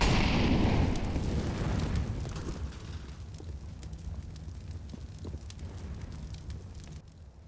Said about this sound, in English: Grenade out. Throwing incendiary.